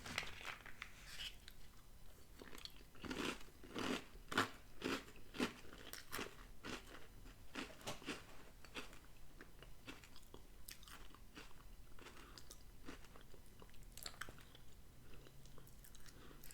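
Crisp crunching and biting of cinnamon toast flavored Magic Spoon protein cereal, close up, in a steady run of sharp bites and chews with no talking.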